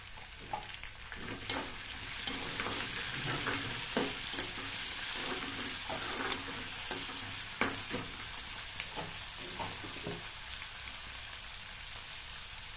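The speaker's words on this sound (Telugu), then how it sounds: "మనం వేగనీయాలి ఇప్పుడు టమాటా ముక్కలు కూడా వేసేస్తున్నాను" Chopped onions, green chillies and tomato pieces frying in oil for upma, a steady close sizzle broken by frequent light scrapes and clinks of stirring, with no talk.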